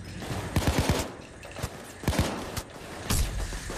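Gunfire in the Payday 2 video game: sharp bursts of shots crackle in quick clusters, separated by brief lulls, fairly loud and close.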